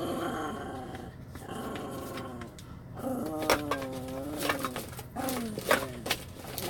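A dog growls and grumbles in a run of low, rumbling bursts, fairly close and moderately loud. Bird cooing sounds sit faintly in the background.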